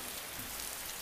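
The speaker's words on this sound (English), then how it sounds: "You can hear it raining outside." Steady rain falling outside in the video game Persona 4 Golden on a night scene, a soft continuous hiss of drops with no voices over it.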